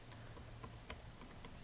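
Quiet, close keystrokes tap out an email address on a computer keyboard in a quick, uneven run of light clicks against a low background hum.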